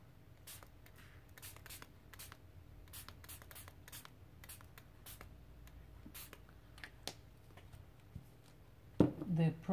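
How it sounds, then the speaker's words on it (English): Short hissing bursts from spray bottles of paint misting onto an art journal page, a string of quick close sprays, quiet, followed by a voice at the end. "So I'm gonna start with the sprays"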